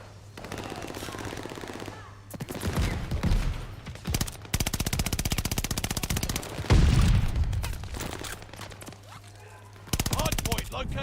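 Gunfire at the hardpoint in Call of Duty Vanguard: sustained rapid automatic bursts, loud and close, broken by short pauses, with in-game voice callouts heard between and over the shooting.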